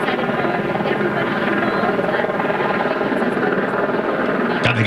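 A helicopter hovering over a Santa Ana street during a news report, its rotor drone a constant loud buzzing rumble beneath a person talking.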